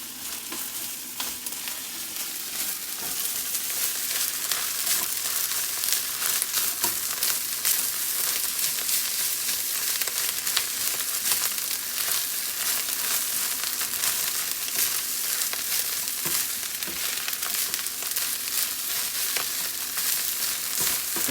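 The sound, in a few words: egg frying in a hot pan on an electric stove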